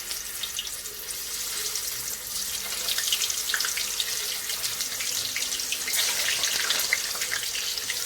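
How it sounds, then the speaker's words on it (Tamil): Banana slices hit hot oil and deep fry, giving a steady, loud bubbling hiss that swells slightly after the first few seconds and carries on with no voices. "இப்போ இந்த பனானாவை வந்து ஆயிலில் போட்டுக்கலாம்"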